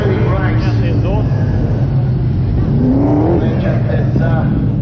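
Methanol-fuelled speedway race cars fire up and rumble on the infield at Beachlands Speedway, a loud continuous engine drone with rising revs under nearby voices.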